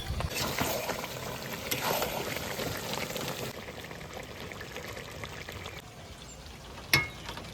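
Meat and onions sautéing in oil in a home kitchen pan, a steady sizzling and bubbling hiss that softens midway, with a sharp clink of a utensil near the end.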